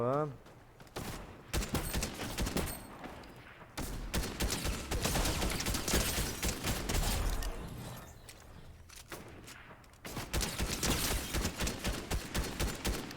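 Rapid bursts of gunfire from the video game Fortnite Battle Royale, dense volleys of shots with footsteps and brief gaps, loud and close, with a person talking over parts of it.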